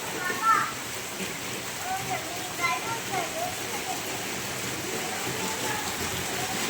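Heavy morning rain pours down steadily, a dense, even hiss of falling water that holds throughout with only slight swells and no pauses.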